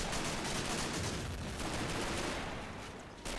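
Continuous rumbling battle noise from mortars firing in Men of War: Assault Squad 2, a dense and steady wash of distant blasts and gunfire with no clear gaps.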